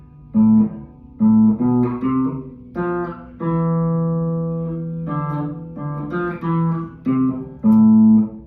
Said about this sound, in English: I'll try to pluck the strings over here.